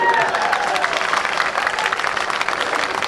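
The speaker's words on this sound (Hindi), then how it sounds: "इस पर बजाओ ताली जोर से" An audience at a poetry recital claps loudly, a dense burst of applause with some cheering mixed in, heard close and continuous throughout.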